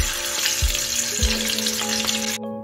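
Salted eggs fry lightly in a pan for egg polao, giving a steady, loud crackling sizzle with a few soft knocks before it cuts out abruptly.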